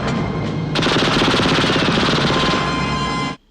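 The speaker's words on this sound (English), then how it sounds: "And left and right front wing machine guns." Machine guns mounted in the front wings of a James Bond car fire a continuous loud rattling burst, a dense rapid stream of shots that cuts off abruptly after about three seconds.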